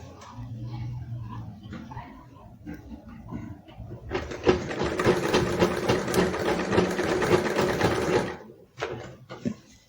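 A sewing machine runs steadily for several seconds while stitching the curved edge of a Yoruba iro and buba outfit, after quieter handling sounds, then stops near the end.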